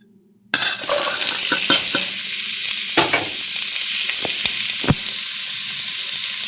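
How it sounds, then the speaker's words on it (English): Carrots, garlic, peppers and onion hit a hot cast iron pot with a sudden loud sizzle that settles into steady, close frying, broken by a few sharp clacks of stirring. "Then I'm going to fry these in the cast iron pot with the fresh food here, with the carrots and the garlic,"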